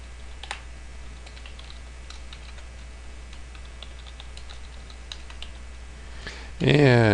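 Computer keyboard keys click in scattered, irregular bursts as someone types code, faint and close, before a voice briefly starts at the very end.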